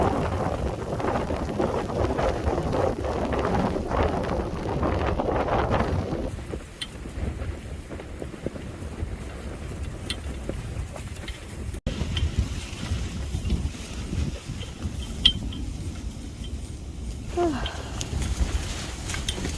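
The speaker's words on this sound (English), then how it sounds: "the dust storm is still going on" A dust storm at Burning Man 2022 buffets the microphone with steady, rough wind roar and gusty rumbling, heavier at first and then slightly calmer, with occasional faint knocks in the background.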